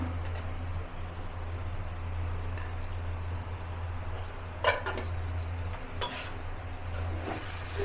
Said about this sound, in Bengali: এবার আলু আর শাক আমি খুব সুন্দর করে কষিয়ে নেব